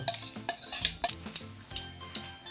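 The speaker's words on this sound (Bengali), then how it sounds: "ফেটাবো ফেটাতে ফেটাতে যতটা দুধ লাগবে আমি দিতে থাকবো" A whisk beats a cake batter of flour and milk in a bowl, giving a series of irregular, close scraping clinks and taps against the bowl, with no voices heard.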